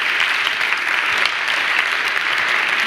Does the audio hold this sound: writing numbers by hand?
no